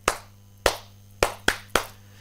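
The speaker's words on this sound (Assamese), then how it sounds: "হিমন্ত সৰকাৰেৰ বাবে এটা জোৰদাৰ হাত চাপৰি" Five sharp hand claps spaced unevenly over about two seconds, each a crisp broadband smack with a short decay, ringing out alone against a low steady hum with no voices.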